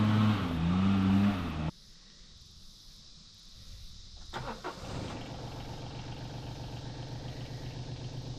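A parked car's engine starting at a hiking trailhead in Schramm Park State Recreation Area, Nebraska: a loud wind-like rush cuts off, then a brief crank catches and settles into a steady low idle.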